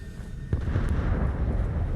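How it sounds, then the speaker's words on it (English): An explosion boom in the Fallout 76 video game: a single sharp blast hits about half a second in, followed by a dull, rumbling low roar that lingers to the end, with no talk. "I seen an explosion and I heard a boom."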